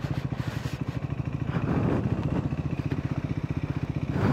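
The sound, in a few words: motorcycle riding near a windmill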